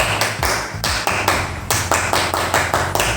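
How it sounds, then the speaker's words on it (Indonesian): Children performing the Pramuka scout clap at a scouting gathering, a series of sharp, loud, unison claps in a rhythmic pattern with brief gaps between groups, close and clear. "1 kali tepuk pramuka"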